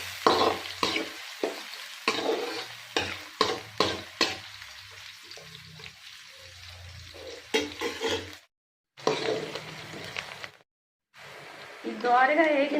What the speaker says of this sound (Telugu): ఇది ఆయిల్లో బాగా వేగాలి.